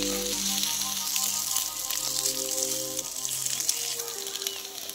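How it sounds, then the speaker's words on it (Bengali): Oil sizzles and crackles steadily in a pan as a breakfast item fries on its second side, a dense hissing texture with scattered pops, close and fairly loud. "এবার উল্টো দিকটাও ভেজে নিচ্ছি"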